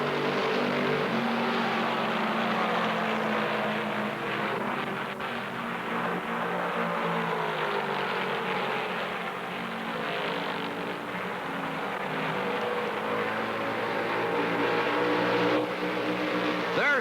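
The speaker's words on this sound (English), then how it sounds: "All Cale's got to do is to keep her running for the rest of this lap" Stock car engines roar steadily at the 1968 Darlington Southern 500, a dense, continuous drone of racing motors heard at a distance with slight swells, and no talking.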